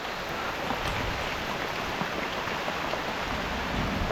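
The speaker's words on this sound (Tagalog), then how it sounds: "Kaya lakas po ng ulan natin." Steady, dense rain pours down with no pauses, a broad hiss close by and loud.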